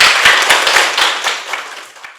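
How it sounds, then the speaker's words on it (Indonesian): Classroom applause for a student named Tiara during a biology lesson, a close, loud burst of many hands clapping rapidly that fades over about two seconds. "Tepuk tangan untuk Tiara"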